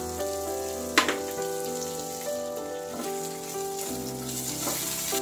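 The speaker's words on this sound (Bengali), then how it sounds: "আরও হাফ চামচ পেঁয়াজ ভাজার জন্য আমি ঘি নিলাম।" Thin, thread-like onion rings fry in ghee, giving a steady bright sizzle with a few sharp pops and the scrape of stirring, close and continuous.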